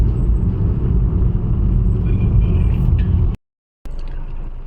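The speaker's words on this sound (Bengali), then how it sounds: "পেট্রোলের গাড়ি যাচ্ছে" A heavy petrol tanker truck rumbles past close by with a loud, deep engine drone, cut briefly by a moment of silence before the rumble resumes.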